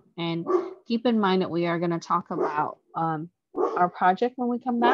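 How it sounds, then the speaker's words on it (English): An excited dog at home barks at package deliverers, its yips breaking through nearly continuous close-up speech from a man giving a lecture. "sorry about my dog, he's a little bit excited with Amazon people coming to drop off packages"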